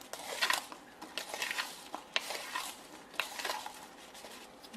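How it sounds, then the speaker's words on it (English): Potatoes tossed with spices in a bowl: a utensil scrapes and clicks against the dish in uneven bursts, close by and fairly quiet, with no talking. "I'm just going to stir that around, coat the potatoes with the spices."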